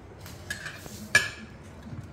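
A spoon scrapes and taps against a bowl while a potato mixture for bread tikki is stirred, giving soft irregular scraping with one sharp metallic clink near the middle, close and fairly quiet.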